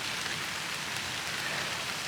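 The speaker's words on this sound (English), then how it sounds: "It's starting to rain." Steady patter of rain falling on foliage in a botanical garden, a dense, even hiss of drops holding at a constant moderate level throughout, with no voices.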